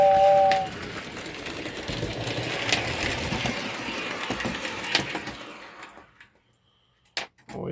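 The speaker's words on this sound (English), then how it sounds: "back her up and go hook onto our train." An O-27 gauge model train running on its track during an operating session, a steady close mechanical rumble and clatter that fades out to near silence, followed by a couple of brief clicks.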